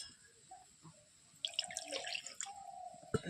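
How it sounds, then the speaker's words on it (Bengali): Broth is poured into chicken curry cooking on a wood stove, giving soft liquid splashes and drips, faint and close, followed by a brief pouring splash and a knock. "আর একটুখানি দিই ঝোল"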